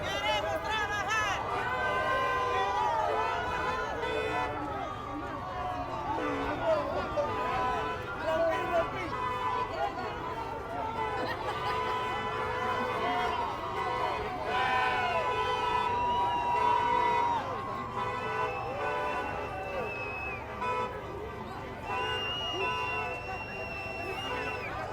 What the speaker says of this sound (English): Pretty big crowd, yeah.